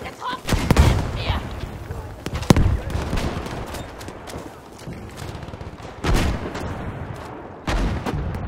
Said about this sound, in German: Deckung, ich werfe Granate!